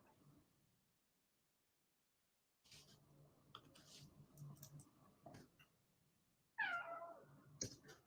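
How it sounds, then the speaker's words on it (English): Cat meowing once, fairly loud and near, after a stretch of quiet desk sounds and light clicking and tapping, followed by a few more soft bumps. "Your cat."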